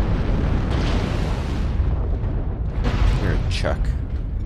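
Airstrike explosions in the game MechWarrior Online, heavy rumbling blasts in a dense, roaring wash of low booms that runs throughout, loud and close, with a voice speaking briefly over it.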